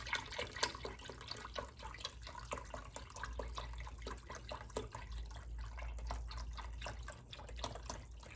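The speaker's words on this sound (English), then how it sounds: "just gonna pour this whole thing in here" Liquid is poured into a crockpot over meat for birria tacos, a steady close splashing and trickling that runs on without a break and with no talk.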